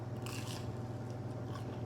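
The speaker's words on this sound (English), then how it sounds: "Y'all hear that crunch?" Shrimp tempura is bitten, giving a couple of quiet crisp crunches, one near the start and another near the end, over a low steady background hum.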